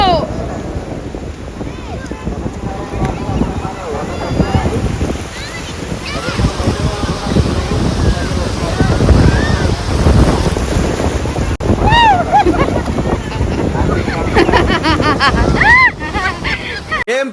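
Surf rolls and crashes on the sand at Suryalanka beach, a loud, continuous wash of breaking waves with heavy wind buffeting the microphone, while voices talk over the roar throughout.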